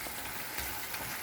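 Tomato pulp sizzles steadily in a pan over high flame for tomato vermicelli upma, a dense continuous hiss with soft stirring movements and no voices.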